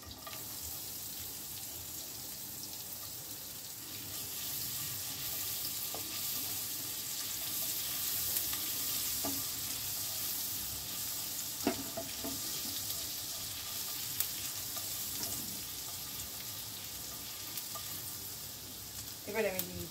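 Chopped garlic and ginger fry in butter for masala paneer makhani, giving a steady, even sizzle with faint clinks and stirring sounds. It stays close and fairly quiet throughout, with no talking.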